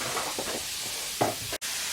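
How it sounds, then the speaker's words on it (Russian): Food fries in a pan while ingredients are stirred, a steady close sizzle with a few soft scraping stirs and a brief break near the end. "Немножечко обжарим все это."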